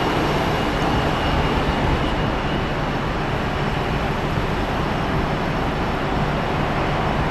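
Boeing 757 airliner approaching to land at Phoenix Sky Harbor International Airport, a steady broad engine roar that holds loud and constant throughout with no clear rise or fall.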